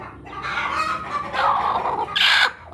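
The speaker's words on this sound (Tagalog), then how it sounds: "ang aming dalawang inahin na magkatabi" Hens clucking nearby in a series of drawn-out calls, with a louder, sharper cluck near the end.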